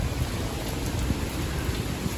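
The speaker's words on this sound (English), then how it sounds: "It's raining very heavy." Heavy rain pours down in Phnom Penh, a dense, steady wash of close, even hiss with no voices.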